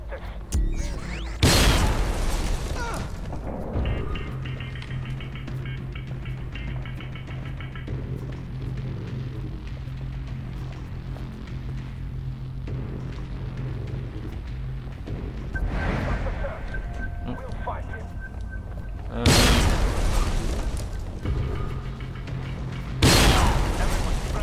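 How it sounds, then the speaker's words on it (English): Explosions in Splinter Cell: Blacklist gameplay boom out in a few heavy, loud bursts over a steady rumbling game soundscape, with one at the start and two more near the end. "these explosions just keep getting closer and closer."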